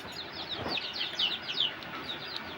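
Young chickens clucking and chirping in a rapid, high-pitched run of calls at close range, with no voices.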